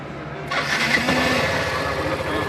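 A Yamaha Fazer 150 motorcycle engine with freshly adjusted valves cranks and catches halfway through, then keeps running at a steady, close, fairly loud idle.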